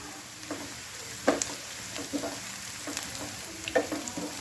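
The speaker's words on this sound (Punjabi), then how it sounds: "ਪਿਆਜ਼ ਜਿਹੜਾ ਸਾਡਾ ਤੇ ਅਦਰਕ ਹੌਲੀ ਹੌਲੀ ਜਿਹੜਾ ਹੈ ਪੱਕ ਰਿਹਾ" Onion and ginger frying slowly in a pan: a soft, steady sizzle with faint crackles and a few light stirring clicks. No one speaks.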